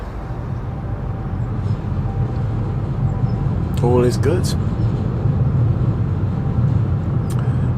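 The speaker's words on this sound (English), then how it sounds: "You might hear some sort of thundering or rumbles. Those are the trains going overhead on the flyover." Trains rumbling overhead on a flyover in the suburbs of Hamburg, a sustained low thundering roar that swells slightly midway, with a short spoken phrase and a brief high squeal over it.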